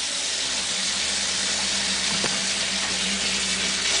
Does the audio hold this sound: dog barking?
no